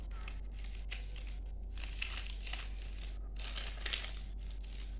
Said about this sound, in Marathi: अशा प्रकारे घडी घालायची आहे